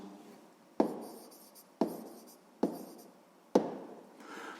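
Numbers handwritten during a sixth-grade maths exercise: four crisp tapping strokes about a second apart, each trailing off quickly, quiet and alone.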